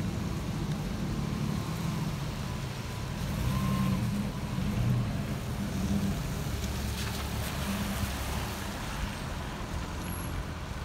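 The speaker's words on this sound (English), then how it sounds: "The parking lot is completely filled up at 7:15 in the morning." Traffic in a packed supermarket parking lot early in the morning, with a steady low rumble of idling and moving cars and trucks, a brief brake hiss, and no talking.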